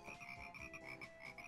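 In the Banjo-Kazooie video game, a frog croaks in a quick, repeated, pulsing rhythm, loud and continuous over a bed of game ambience.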